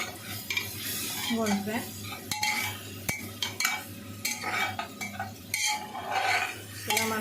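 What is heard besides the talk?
frying and stirring ginger garlic paste in oil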